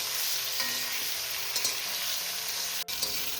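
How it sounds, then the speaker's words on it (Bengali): Potatoes and flat beans with whole garlic fry in a pan, giving a steady hiss of sizzling oil broken by the scrape and clatter of a spatula stirring them. "এবার আলু শিম একসাথে করে"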